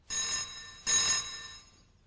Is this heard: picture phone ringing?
yes